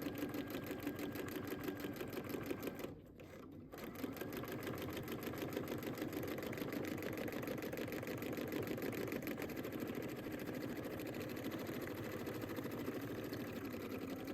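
A home sewing machine stitches fabric onto a paper valentine card, running steadily and close with a rapid mechanical whir, broken by one brief pause before carrying on at an even pace.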